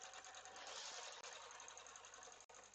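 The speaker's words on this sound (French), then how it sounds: "Au niveau du bruit de la machine à coudre, ça va?" A domestic sewing machine stitches trouser fabric in a fast, even mechanical whir with rapid needle ticks, close and steady, broken by two very brief stops, with no voices.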